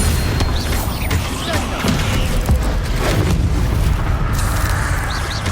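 Blasting spell explosions in the Hogwarts Legacy video game, heavy booming bursts amid dense game effects and music, with a voice talking over them.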